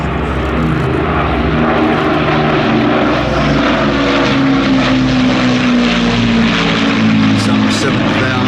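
An Avro Lancaster bomber flies past at an air festival with a loud, continuous drone of piston engines and propellers, the pitch sliding slowly downward as it passes. A public-address voice talks over the engines.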